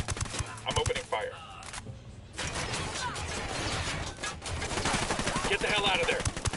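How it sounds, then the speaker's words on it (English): Automatic gunfire rattles in a PS4 shooter, sustained bursts of close shots with a short pause before the firing resumes heavily, and voices are heard talking over parts of it. "I'm opening fire."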